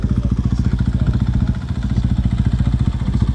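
A motorcycle engine runs loud and close during an exhaust noise test at the Qatar Baja World Cup, a rapid, pulsing exhaust throb holding a steady fast idle throughout.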